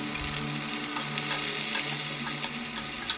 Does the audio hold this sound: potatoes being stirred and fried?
yes